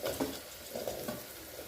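Potatoes are stirred and sautéed with softened tomatoes in an open pressure cooker, giving close, busy scraping and sizzling with rhythmic spoon strokes throughout and no voices.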